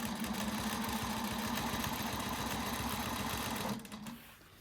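A sewing machine stitches a flying geese quilt in a fast, steady mechanical whir with a rapid needle rhythm, close and loud, then slows and stops near the end, with no talking.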